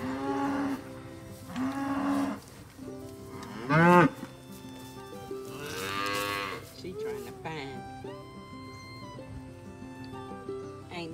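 Cattle on a farm mooing repeatedly, several long, loud lows near at hand with short gaps between them, heard over a steady background.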